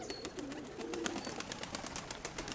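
Newly acquired pigeons coo in a loft, soft low calls rising and falling near the listener amid scattered clicks and rustling, with no voices.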